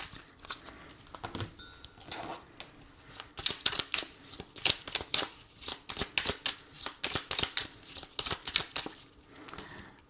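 Oracle cards shuffled by hand during a daily tarot-style reading, a steady run of crisp riffling slaps and flutters, close and fairly quiet, with no voice.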